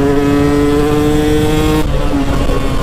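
A KTM 125 enduro motorcycle, its carburettor running slightly rich at the end of break-in, revs loudly up close with a steady buzzing two-stroke tone that suddenly drops in pitch partway through as the throttle changes.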